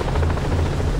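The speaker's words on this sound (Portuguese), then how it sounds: "O que é isto? Helicóptero?" A helicopter in Far Cry 3, a steady loud low rotor drone with a constant buzzing hum filling the whole second, close and unbroken.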